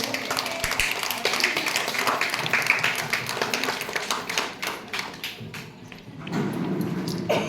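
An audience claps at a village gram panchayat event in Maidala, Tumakuru taluk, marking World Breastfeeding Week; a dense patter of hands fills the space steadily, with a fuller swell of applause near the end.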